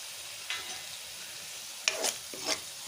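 Liver fries in a pan with lemon juice, a soft steady sizzle under a few sharp scraping stirs of a spatula against the pan, close and brief.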